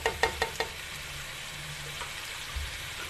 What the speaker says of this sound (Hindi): इसको भी अच्छी तरह भूनेंगे जब तक इसकी स्मेल ना ख़त्म हो जाए।